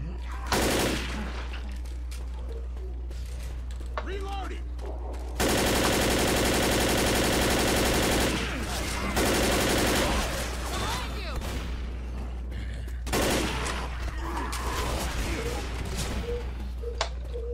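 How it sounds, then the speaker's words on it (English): Heavy gunfire bursts from several weapons in a Left 4 Dead co-op match, loud sustained volleys and rapid automatic fire in repeated waves with explosive booms, while players talk over the shooting. "Everyone opens fire."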